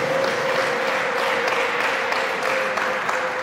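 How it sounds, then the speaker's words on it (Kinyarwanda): Guests at a church wedding applaud in a continuous, loud wash of clapping, with a sustained high ululation running through it from close by. "Ngaho abo tubakiza amashyi n'impundu"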